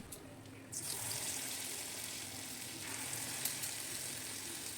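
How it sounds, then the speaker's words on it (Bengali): Palm fruit fritters sizzle in hot oil in a pan, a dense crackling hiss that jumps in loudness early and then holds steady and close with small pops throughout. "বাকি বড়াগুলো আমি একইভাবে ভেজে নেব"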